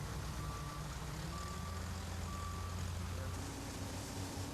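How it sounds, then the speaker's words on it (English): A front end loader scoops windrowed material off the edge of a pavement shoulder and loads dump trucks, with a steady engine rumble and repeated evenly spaced reversing beeps sounding over it. "a front end loader picks up the windrowed material on the edge of the pavement"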